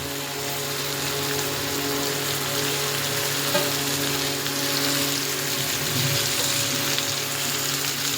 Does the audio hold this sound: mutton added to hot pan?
yes